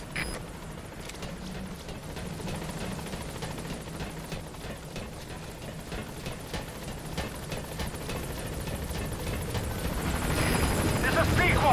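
Pequod, the transport helicopter in Metal Gear Solid V: The Phantom Pain, arrives at a landing zone, rotor chop thumping steadily and growing louder toward the end, while a radio voice speaks over it.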